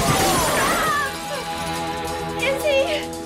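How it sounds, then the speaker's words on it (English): Glass skylight window shattering in the 1990 Teenage Mutant Ninja Turtles movie, a bright crash at the start with tinkling debris, followed by ringing musical tones and voices. "he gets thrown through the sky view glass window"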